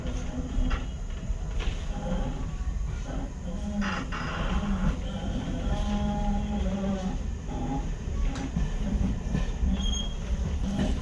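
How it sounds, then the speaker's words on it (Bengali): A passenger train pulls out of Kalinarayanpur Junction station at night, its wheels squealing and clacking on the rails over a continuous rumble, with no talk. "কালিনায়পুর জংশন স্টেশন ছেড়ে দিল"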